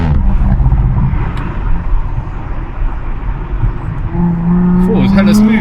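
An Audi S5 Sportback fitted with a downpipe and RS exhaust drives along, a loud, steady low drone heard from inside the car, with a rising whine near the end.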